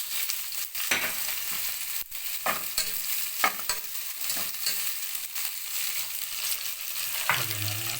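Onions sauté in a pan for a kalderetta, giving a continuous sizzle broken by repeated scraping stirs and clinks of a utensil against the pan, close and fairly loud, with no talking.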